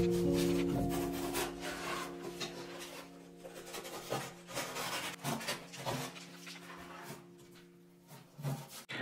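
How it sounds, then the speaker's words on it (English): Cutting an opening for a wall niche in a bathroom wall, a steady rasping, grinding cut with a constant tool hum underneath and irregular scraping bursts, close and continuous. "And then I'll cut out the opening for the niche."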